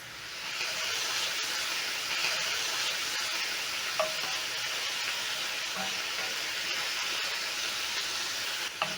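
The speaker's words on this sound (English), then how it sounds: "After 1 minute, I'm going to flip my meat and cook for another 1 to 2 minutes." Meat browning in a hot pan for chips vuruga, a steady broad sizzle and hiss that holds evenly throughout, with a few faint clicks of utensils and no voices.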